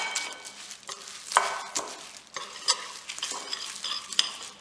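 Ingredients for homemade chocolate cornflakes, cocoa among them, stirred together in a bowl, giving a close, steady scraping and rustling with irregular louder swishes and no voices.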